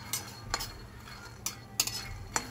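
Peanuts being stirred in a dry pan while they roast for a peanut chutney, giving a handful of sharp scraping clinks at uneven intervals over a quiet background hiss, fairly close and soft.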